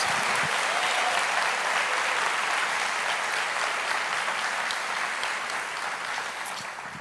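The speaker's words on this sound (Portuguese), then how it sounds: "Aplauda mais!" Sustained audience applause at a church sermon, a steady wash of many hands clapping that fades gradually over several seconds, without talk.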